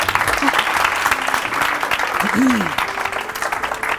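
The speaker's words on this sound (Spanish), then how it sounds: "Un aplauso para vuestro colega." A school audience of students applauds a volunteer classmate at a high school show, dense clapping throughout with voices talking and calling out over it.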